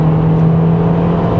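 A Kia Niro engine drones loud and steady near its rev limit while shifting from third to fourth gear, a sustained strained hum with no break or talk.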